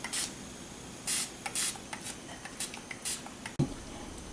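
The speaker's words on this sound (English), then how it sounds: "This is a fine spray." A fine spray bottle mists water onto watercolor paper, with several short hissing bursts spaced irregularly at close range, then a light tap near the end.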